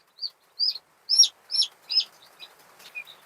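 Young chicks and gull chicks give a series of high, thin peeping chirps, about eight short calls in an uneven rhythm, close and fairly soft against a quiet background.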